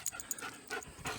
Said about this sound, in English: Got the shop dog